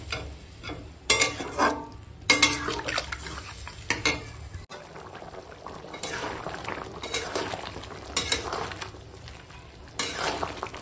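Goat meat curry sizzling in a pot as water is poured in, with bursts of loud sizzling and stirring, a clink of utensils against the pan, and a steady low bubbling underneath.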